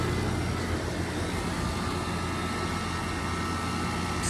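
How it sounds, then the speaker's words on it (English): A Goodman air conditioner compressor, on a unit with a refrigerant leak, runs with a loud, unbroken mechanical drone and hum that stays steady throughout. "So compressor is definitely running"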